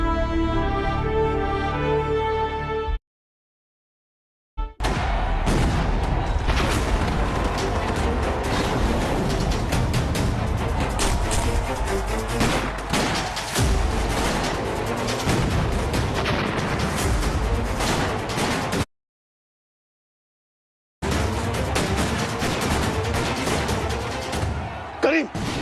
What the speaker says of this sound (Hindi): करीम, गोलियां दागते रहना, रुकना मत।